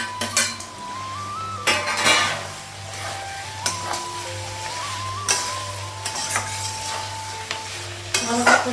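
Potatoes being sautéed in a pan in a home kitchen, with intermittent scraping and stirring clatter against the pan over a light sizzle and steady background hum, with brief louder clanks.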